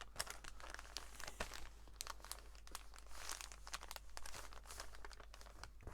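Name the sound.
crinkly paper page being handled in a journal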